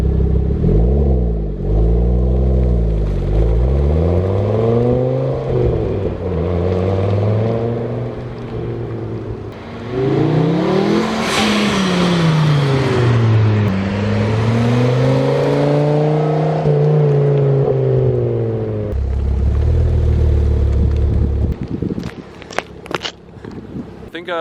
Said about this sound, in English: that 5-cylinder rumble. I'll give you a couple revs too real quick.